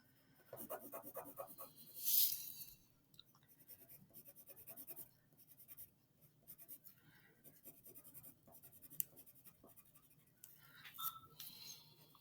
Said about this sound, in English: You can even shade along your ruler to just kind of help guide that pencil.